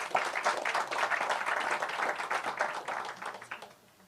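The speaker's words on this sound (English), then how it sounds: "please give a warm round of applause to Mr." Audience at a running-series press conference applauds a director being introduced, steady dense clapping throughout that tapers off near the end.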